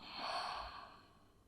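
A single slow, audible exhale during a yoga flow in child's pose, a soft breathy whoosh that swells and then fades, close to the microphone with no talking.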